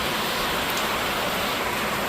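Heavy rain pours down in a dense, unbroken roar that stays loud and even from start to finish, with no voices over it.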